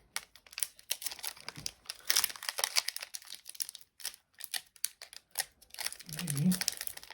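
Foil wrappers of 1991 Fleer Ultra football trading card packs crinkle and tear as they are ripped open, a run of close, sharp crackling bursts with soft voice sounds near the end.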